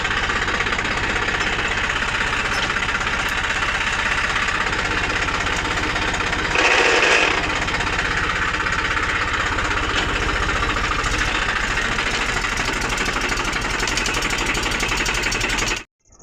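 A tractor engine ploughs a farm field, running in a loud, continuous throbbing drone with a steady knocking pulse that carries on without a break until it cuts off abruptly at the end.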